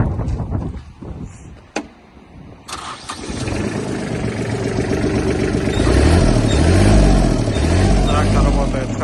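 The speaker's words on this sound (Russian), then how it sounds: "Запустим трактор." Kubota KL-25 Japanese mini tractor with cab cranks and starts, its diesel then settling into a steady, loud, rumbling idle close by after a few clicks and a brief whir.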